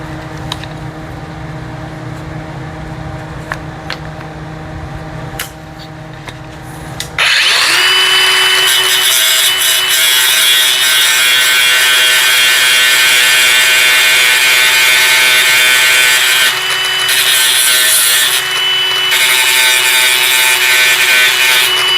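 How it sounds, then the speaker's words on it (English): An angle grinder bites into a metal locomotive motor mount, starting abruptly after quiet shop noise and then grinding loud and continuous, with slight changes in pitch as the pressure shifts. "grind this real quick."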